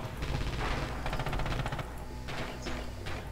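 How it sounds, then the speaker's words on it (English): Rapid automatic gunfire rattles through a Red Orchestra 2 battle, dense overlapping bursts from several weapons at mid distance with a steady din behind them and no talking. "someone got shot or something"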